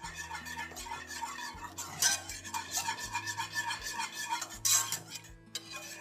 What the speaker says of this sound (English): And now we're just gonna whisk that in. And just continue whisking until you see it nice and creamy.